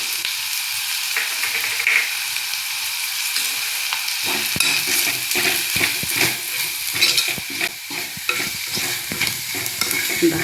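Ground pepper, coriander and turmeric powder frying for brinjal kara kuzhambu, a loud steady sizzle that grows busier as a spoon scrapes and stirs the pan repeatedly.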